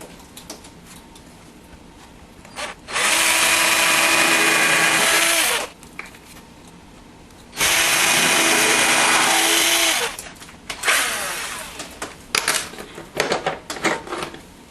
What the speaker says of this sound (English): I'm just going to pre-drill.